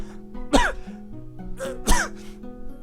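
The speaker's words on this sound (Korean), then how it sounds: "기침을 뿜어내며 한동안 숨을 고른다." A character coughs twice in a visual novel game, two sharp bursts about a second and a half apart, each trailing into a short rasping exhale over a steady background music bed.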